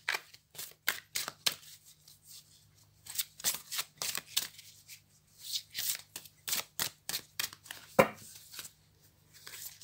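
Tarot cards being shuffled, a run of quick, crisp riffling bursts and flicks repeating irregularly up close, with one sharper snap near the end, over a faint low hum and no talking.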